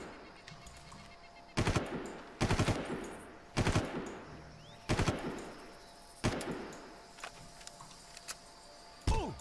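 Gunfire in the PC shooter Far Cry taking out a sniper, about eight sharp loud shots spaced roughly a second apart, each with a short echoing tail over a faint ambient background.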